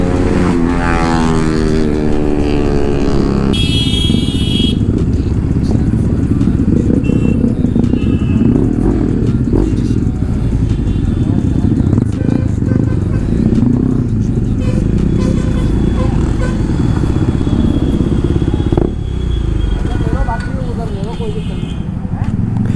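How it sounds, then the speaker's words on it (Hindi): Group of motorcycles with aftermarket exhausts rumbling loudly on an Independence Day ride, a continuous dense engine roar close to the microphone throughout, with wind noise over it. "पर भाई नॉइज जो आ रहा है ना भाई, ए टू जेड सभी ने एग्जॉस्ट लगा रखा है"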